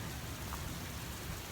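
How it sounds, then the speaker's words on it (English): Steady rain pours down outdoors at Baltimore's Inner Harbor, a constant, even hiss of moderate loudness with no break or clear individual drops. "It's raining."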